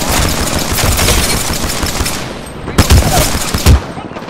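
Rapid automatic gunfire from the Apex Legends battle royale video game, a loud, dense burst of shots that runs almost continuously, with a few heavier booming hits near the end.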